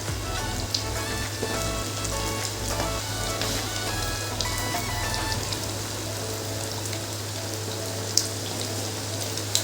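Potato crispy snacks deep frying in oil over low-medium heat, a dense continuous bubbling sizzle, close and steady, with a low mechanical hum beneath and a couple of faint clicks.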